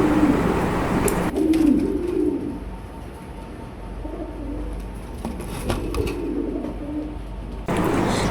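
Pigeons, including a black running male, coo in low soft bursts at a pigeon market, with rustling and background noise around them.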